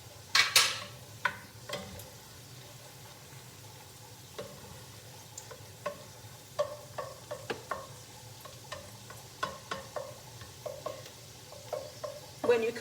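Onion frying in a pan for homemade chili, with a soft steady sizzle underneath and a run of sharp, close clicks and scrapes as a utensil stirs it, spaced irregularly across the whole stretch.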